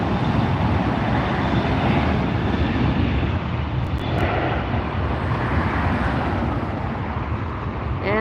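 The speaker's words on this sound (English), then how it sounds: "as the Southwest departs." A Southwest airliner departing a runway at LAX, heard from nearby as a steady, broad jet engine roar that holds loud throughout, with no voices.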